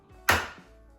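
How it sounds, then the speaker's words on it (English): A single egg cracks sharply against a bowl for a cupcake batter, one close crisp snap with a short softer follow-through, alone in a quiet kitchen. "Now I'm just going to add some eggs."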